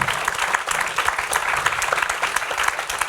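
Applause rolls through a conference audience at the close of a talk on financing the ecological transition, a dense, steady wash of many hands clapping at once, with no voices over it.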